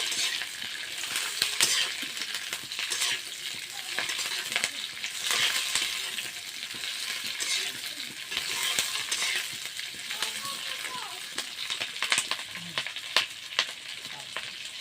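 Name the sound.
green chillies frying and being stirred in pan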